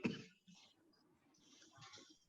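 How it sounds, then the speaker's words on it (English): A single sharp dry cough from a person with a parched throat opens, followed by faint breathy throat sounds at low level in a quiet indoor room. "that's the cough, because my throat is dry."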